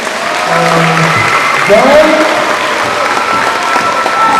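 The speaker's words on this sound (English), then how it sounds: "big round of applause" Audience at a county 4-H pageant applauding and cheering as contestants return to the stage, a continuous roar of clapping with a brief spoken word from a voice over it.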